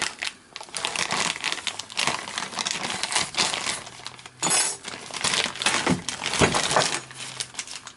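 Plastic bag crinkles and rustles in repeated bursts as it is handled and pulled apart to unwrap an oily new 65mm toolmaker's vice, close up, with a few brief clinks.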